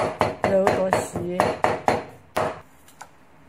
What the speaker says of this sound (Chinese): 肉剁细